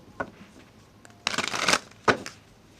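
Tarot cards being shuffled close by, with a quick flick, a short riffle, then a longer dense ruffling burst and a final sharp riffle, quiet in between.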